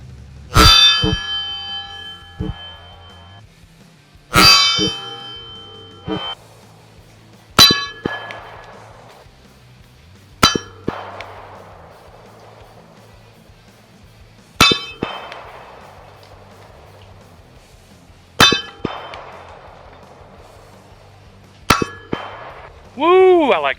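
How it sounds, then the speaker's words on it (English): Pistol rounds in .40 caliber striking an AR500 steel target: about eight loud metallic clangs spaced a few seconds apart, each ringing and decaying, shot outdoors at a range. "Now we're gonna shoot some 40."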